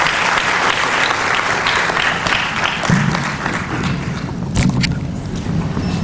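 A crowd applauds steadily for several seconds at the opening ceremony of a medical education congress, dense clapping filling the room with a few louder bursts near the end.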